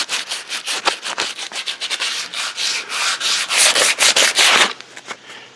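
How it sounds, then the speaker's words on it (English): Sandpaper is rubbed by hand along the rounded wooden edge of a back-porch board in quick back-and-forth strokes, a loud, close, rhythmic scratchy rasp that stops near the end. "it's just a little bit with some sandpaper"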